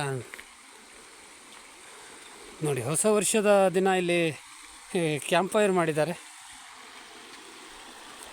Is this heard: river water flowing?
yes